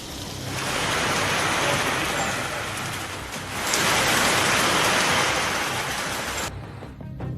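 Heavy rain driven by wind pours down during Cyclone Fengal in Tamil Nadu, a dense, loud hiss that swells and eases in gusts before cutting off abruptly near the end.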